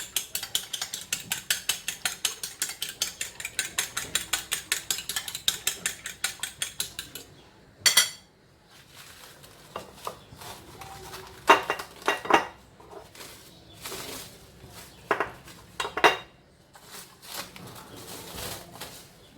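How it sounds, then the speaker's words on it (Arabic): Eggs are beaten with salt in a bowl for homemade crispy fried chicken, a fast, regular clatter of a utensil against the dish for several seconds, then scattered clinks and knocks. "غادي نطرب البيض ديالي مزيان"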